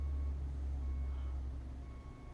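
Tata Hyva dump truck moving at a coal mine, a steady low engine rumble that stays fairly faint and unchanging throughout.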